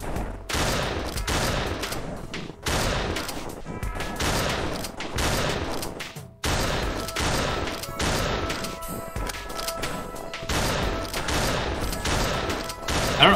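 A shotgun fires repeatedly in the video game Santa Gets A Shotgun, dense bursts of loud blasts and crashes in rapid succession with short pauses between volleys.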